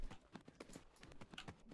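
A horse in the Tales of Rein Ravine video game clops along in a quick, regular rhythm of hoof strikes, close but fairly quiet.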